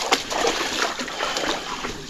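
Lake water splashing and sloshing as someone wades through it at Keuka Lake, a close, continuous churn of small splashes with no clear pauses.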